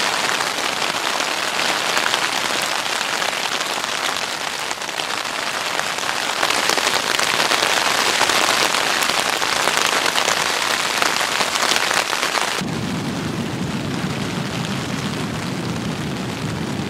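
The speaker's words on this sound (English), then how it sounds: "as you guys can hear, it's raining" Steady heavy rain drums on an Alps Mountaineering Lynx 1 tent overhead, a constant dense patter that stays loud throughout, with no voices.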